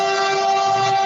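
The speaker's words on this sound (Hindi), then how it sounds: "आप म्यूट कर लें अपने आप को, ताकि आपके रेलगाड़ी की आवाज़ हम तक नहीं आए।" A passing train's loud, sustained horn blares through a meeting participant's microphone, a steady tonal blast held for the whole moment, close and overpowering.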